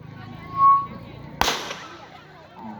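A single sharp bang of a starting pistol at a track race start cracks out after a brief whistle-like tone, fading quickly into a quiet outdoor hum.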